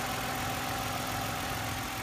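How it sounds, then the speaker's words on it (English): V6 engine of a 2008 Toyota RAV4 Limited idling with the hood open, a faint, steady, even hum held for the whole moment with no talking. "the engine is that V6. There it is running."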